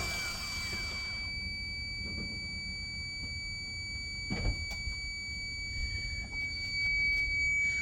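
A steady high-pitched warning buzzer from an Autoone JS02 jump starter drones continuously over a low background rumble, with a brief thump partway through.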